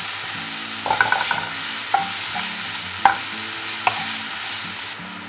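Tomato, ginger-garlic paste and rock salt sizzling in a pan for Madras-style masala button idli, a steady frying hiss broken by a few scraping stirs of a spoon, close and continuous with no voices.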